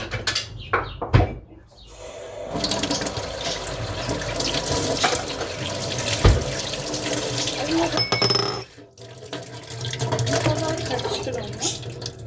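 Water runs from a kitchen tap as a child's burned hand is washed at the sink, a steady splashing flow that stops briefly near the middle and then resumes, with household clatter and voices around it.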